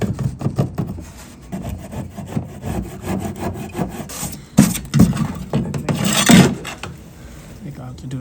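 Hand sawing into wood during a restoration: close, rhythmic rasping back-and-forth strokes that grow louder and harsher toward the end, with brief speech in between.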